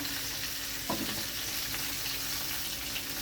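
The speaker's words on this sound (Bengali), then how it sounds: "যতক্ষণে ফুলকপিটা ভাজা হচ্ছে" Cauliflower fries in a pan for an egg and cauliflower curry, giving a soft, even sizzle throughout with one brief utensil clink near the start, moderately quiet and with no voices.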